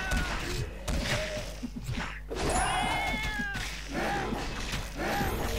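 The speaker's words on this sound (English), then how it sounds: "And the cat's getting hurt." A pet cat in the Fate: Undiscovered Realms video game yowls and meows repeatedly in pained cries amid thuds of combat, fairly close and loud.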